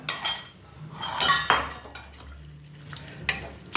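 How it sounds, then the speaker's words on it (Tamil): Mustard seed and curry leaf tempering tipped from a small pan into banana-stem yogurt pachadi, with close, loud metallic clinks and scrapes of spoon against vessel in several quick bursts, no talking. "அப்படியே இந்த கடுகு வறுத்ததையும் அதில் போட்டுடலாம்."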